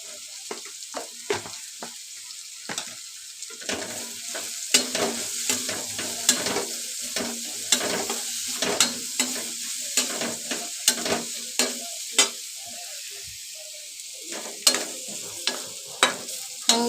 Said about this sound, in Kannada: ಫ್ರೈ ಆಗಿದೆ ಚೆನ್ನಾಗಿ ಎಣ್ಣೆ ಫ್ರೈ ಆಗಿದೆ